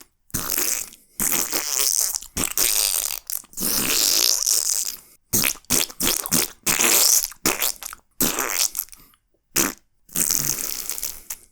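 A person imitates fart noises with the mouth, a series of loud, wet, sputtering raspberries in separate bursts of varying length with short silent gaps between them, close to the listener.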